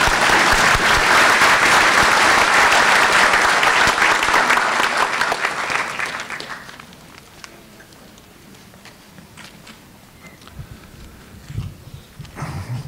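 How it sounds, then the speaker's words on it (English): Dense applause from a commencement audience at St. George's University in Grenada, honoring honorary doctorate recipients. It is loud and sustained for about six seconds, then thins to scattered, fading claps. "let's give them all another round of applause."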